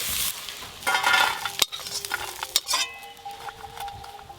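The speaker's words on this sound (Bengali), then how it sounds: "কাঁকড়াগুলো ভাজা হয়ে গেছে, নামিয়ে ফুলকপিগুলো ভেজে নেব।" Cauliflower frying in a pan over a very high flame, a loud busy sizzle broken by stirring and a couple of sharp metal clinks from the utensil against the pan; no voices.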